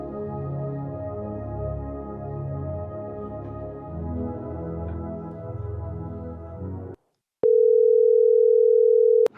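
A buzzy, harmonic drone plays for several seconds, then after a short gap a steady, loud telephone dial tone sounds alone.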